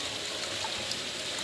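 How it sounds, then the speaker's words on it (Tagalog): Strong flow of water from a spring, a steady dense rushing and splashing heard close and alone, with no break for its short length. "Ayan na, lakas na ang agos oh."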